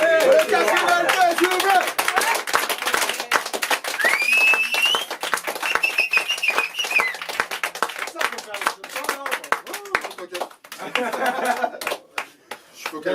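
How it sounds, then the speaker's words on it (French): Audience applause at the close of a French comedy stage show, a long burst of clapping mixed with cheers and laughter, with voices talking and calling over it before the clapping thins out near the end. "On va applaudir ceux qui vont nous faire picoler."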